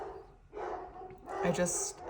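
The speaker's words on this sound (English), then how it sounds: "My dogs are losing their minds." Dogs barking indoors, a few yappy barks and whines rising in bursts beneath a woman's ongoing speech, moderately close.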